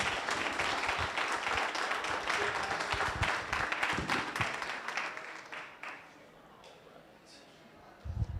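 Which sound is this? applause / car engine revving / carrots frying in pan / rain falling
applause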